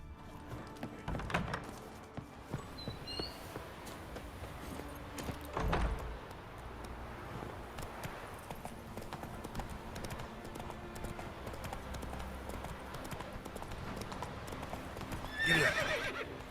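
Horse hooves clip-clop in an uneven walking rhythm, fairly quiet, with a horse neighing briefly a couple of times and no one speaking.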